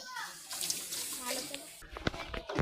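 Water splashing and running steadily from a stone Nandi spout, with voices talking nearby and some sharp splashes toward the end.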